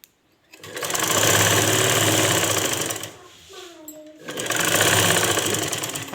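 A sewing machine stitches a salwar waistband, running in two long, loud, steady bursts of rapid mechanical chatter close by, separated by a brief pause with a small clunk.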